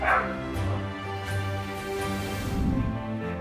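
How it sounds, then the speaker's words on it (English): A small dog barks a few times in quick yips, close by and moderately loud, with some whimpering between the barks. "Thanks to the barking of their small gatekeeper"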